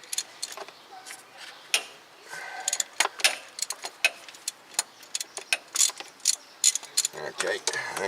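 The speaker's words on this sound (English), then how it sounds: "go ahead and remove that bolt all the way out." Ratchet clicking and metallic mechanical ticks while loosening the bottom bolt of a car self starter motor, a dense irregular run of close, sharp clicks and clanks with no talk.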